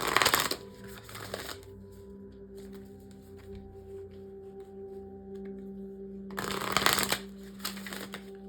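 Moonology oracle card deck shuffled in two loud bursts at the start and near the end, with quieter card handling and a faint steady hum between them; no talking.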